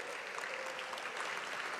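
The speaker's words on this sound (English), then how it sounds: "Give him a round of applause on the way off there." At an academic and athletics award banquet, the audience claps steadily in a brief, even burst of applause with a roomy, somewhat distant feel and no speech on top.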